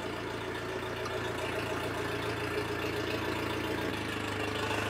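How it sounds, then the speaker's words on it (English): A Honda outboard motor idles steadily in neutral during a flush, its even mid-low drone holding constant and close throughout with no voices. "we now turn the engine on and leave it in neutral"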